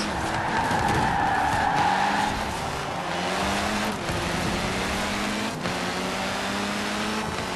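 Ford #14 Rahal Letterman Lanigan GRC Fiesta race car in Forza Horizon 4 on a snowy course: a steady, close engine roar climbs through quick gear shifts, with tire skidding hiss over it and no talk.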